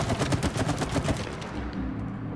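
Rapid gunfire in the It Takes Two video game, a fast string of loud shots for about a second and a half that trails off into a low rumble.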